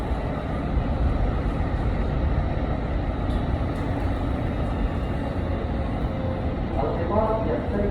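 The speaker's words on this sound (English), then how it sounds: "Train arrived." Train arriving at a station, a steady loud rumble of wheels and engine throughout with a brief squeal of brakes near the end; a voice speaks over it.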